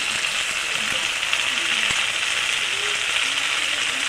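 Tomato and spices sautéing in a pan for a no-onion, no-garlic eggplant and moong dal dish, giving a steady close sizzle and crackle that carries evenly throughout with no talk.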